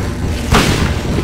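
One sharp, booming shotgun blast in Silent Hill, a single loud crack over a murky, rumbling background.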